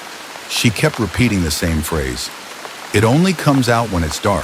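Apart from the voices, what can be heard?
rain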